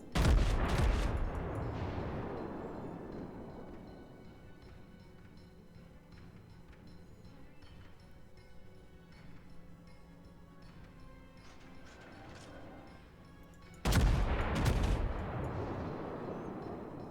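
A battleship Arizona fires triple-gun salvos in the naval game World of Warships: a loud booming blast opens, rumbling and fading over several seconds, and a second heavy salvo bursts in near the end, both alone without talk.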